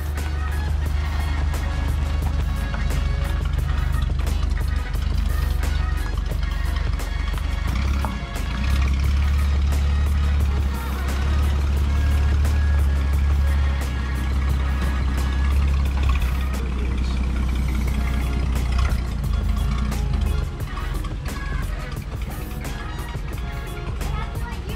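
An old car rolls slowly along with its engine running low and steady, a continuous rumbling drone near the microphone, while people talk over it throughout.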